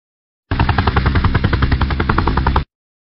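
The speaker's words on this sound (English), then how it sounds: "Firefighting helicopter." A firefighting helicopter makes a loud, close, rapid rotor chop, a dense steady thudding pulse that starts abruptly, holds for about two seconds, then cuts off sharply, with no talking.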